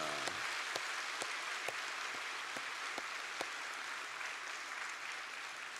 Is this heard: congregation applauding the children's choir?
yes